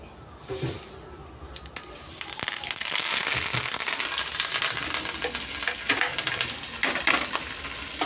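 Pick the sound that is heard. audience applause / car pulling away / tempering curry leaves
tempering curry leaves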